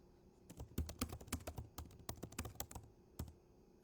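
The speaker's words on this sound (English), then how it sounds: "I'm typing in my good morning." Typing on a computer keyboard, a quick irregular run of close, crisp key clicks with short pauses, fairly quiet and with no talking.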